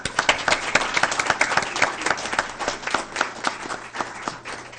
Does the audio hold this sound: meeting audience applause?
yes